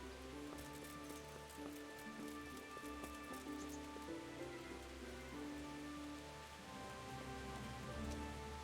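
Rain falls steadily in Kingdom Come Deliverance, a soft even patter and hiss lasting throughout beneath faint low ambient tones.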